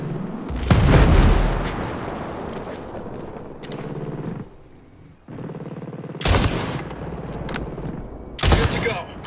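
Mortar fire in the video game Ghost Recon Breakpoint, with several heavy booming blasts rumbling out in bursts among game noise and a voice talking.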